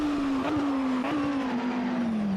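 A racing car in a video game drives fast into corners, its engine holding a steady loud drone that dips and rises slightly with gear and throttle changes, alone without talk.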